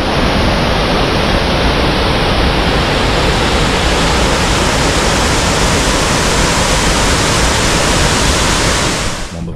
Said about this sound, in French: Normalement il y a une cascade pas loin.